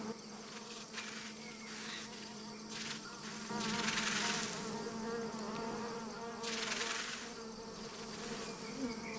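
Giant Himalayan honey bees swarm over huge combs on a cliff, their dense buzzing steady and close, swelling louder in waves.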